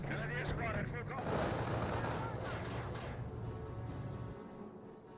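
Rattling bursts of rifle and machine-gun fire from a World War II battle in the strategy game Company of Heroes, dense and continuous under game voices and radio chatter, easing toward the end.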